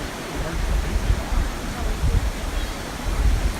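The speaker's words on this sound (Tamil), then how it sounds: "அந்த தண்ணி சவுண்ட் வந்து நம்ம கேட்டுகிட்டே போகலாம்." Water flows near Minnehaha Falls in a steady, noisy rush that stays close and loud throughout, with no talk over it.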